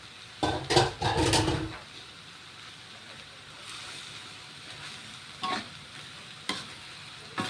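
Pork with pickled bamboo shoots and holy basil stir-fries in a pan cooked without oil, a steady close sizzle broken by loud scraping stirs near the start and a few brief clatters later.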